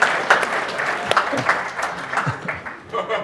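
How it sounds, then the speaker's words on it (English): Audience applause for four debate speakers at a tech optimism and pessimism debate fills the room, a steady dense wash of clapping with a few sharper individual claps standing out. "Round of applause for all four."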